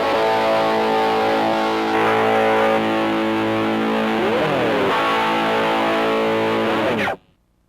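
A heavily distorted electric guitar chord from a Korg D1200 amp-modelling distortion effect rings out loud and sustained, with a couple of sliding pitch bends, then cuts off abruptly near the end.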